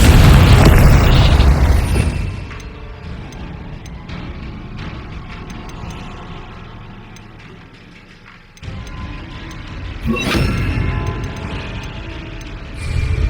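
Confringo fire spell explosions in the video game Hogwarts Legacy: a loud booming blast opens, then a rumbling mechanical tail, and a second sharp burst erupts near the end.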